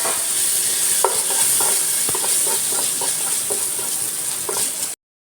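Chopped tomato is sautéed with onion in a hot pan, a loud steady sizzle close up. Spoon stirs scrape through it at a loose rhythm until it cuts off abruptly.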